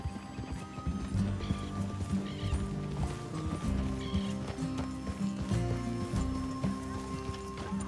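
Horses trot along in the video game Red Dead Redemption 2, a steady, close clip-clop of hooves with occasional snorts, set against a low musical score and faint ambient noise.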